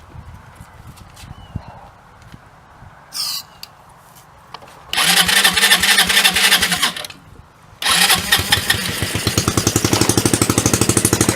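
A Hammerhead 250 SS engine is cranked after brake cleaner is sprayed in, with a few short tentative bursts followed by two long loud runs of rapid rhythmic cranking and chugging, close up.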